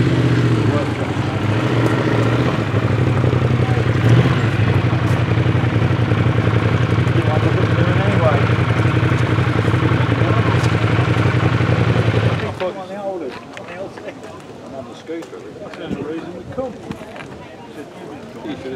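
A Yamaha RD 350 motorcycle's water-cooled engine runs steadily with a low rumbling drone, then cuts off, leaving quieter background sounds.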